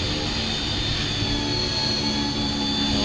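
A CopterX RC helicopter motor whines while the model flies over a field, giving a constant, loud, broadband whirring roar with a faint high tonal line throughout.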